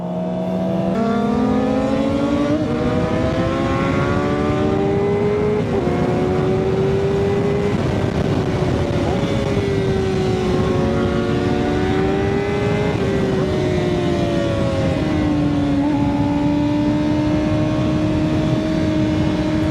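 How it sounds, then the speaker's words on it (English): Car engine droning close and loud, its pitch climbing and shifting steadily for about twenty seconds, with no voices heard. "Car pulling up."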